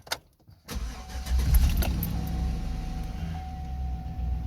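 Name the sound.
car engine starting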